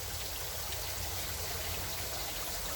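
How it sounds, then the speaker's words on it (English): Water runs steadily down a standpipe drain in a fish vat on a cichlid farm, a constant close trickling and gurgling wash with no voices. "The water runs down this stand tube, and it'll go into our ditch"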